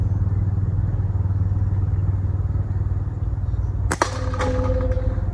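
A slingshot shot fired at a 45-degree angle outdoors lands as one sharp crack near the end, following a few seconds of steady low rumbling background noise.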